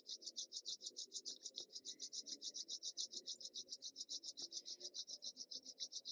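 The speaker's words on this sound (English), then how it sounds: "Then bring your hands together and rub gently until they feel nice and warm." Two hands rub gently together in slow, even strokes, giving a soft, close, rhythmic rasping swish over faint background noise, with no talking.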